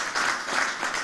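A brief burst of audience applause for officials at a rural public discussion on organic farming, a dense patter of clapping lasting about a second.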